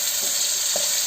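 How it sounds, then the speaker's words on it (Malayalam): Shallots, green chilies and curry leaves fry in oil in a pan, giving a steady close sizzle with a couple of soft stirring scrapes. "പച്ചമുളകും കറിവേപ്പിലയും കൂടെ മൂപ്പിച്ചെടുത്തിട്ടുണ്ട് കേട്ടോ."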